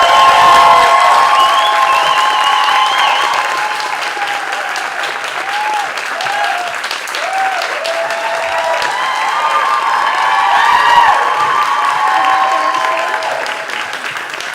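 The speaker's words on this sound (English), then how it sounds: "Round of applause." An awards-ceremony audience at a Miami web series festival breaks into sustained clapping and scattered cheers as actor Keith David receives a lifetime honor, a full, even wash of hands with whoops and voices rising through it.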